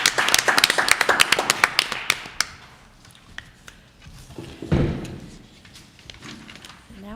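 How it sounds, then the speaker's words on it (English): A small meeting audience claps for volunteers: a brief burst of sparse, close handclaps that thins out after a couple of seconds, followed by quiet room noise and a few knocks and rustles. "I think a round of applause for our volunteers"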